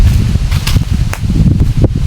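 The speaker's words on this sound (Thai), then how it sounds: "ลมแรงเนาะยังดีที่มีต้นไม้บังตรงนี้" Strong wind gusts through trees in rural Surin province, Thailand, where baled straw is being loaded onto a truck, making a steady, dense rustling roar with no talking.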